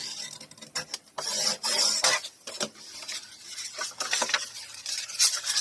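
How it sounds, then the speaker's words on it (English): Folded paper pocket corners and edges being burnished down, giving repeated dry rasping rubs in short close strokes, some pauses between passes, with no talking. "I'm going to go ahead and burnish these corners down again"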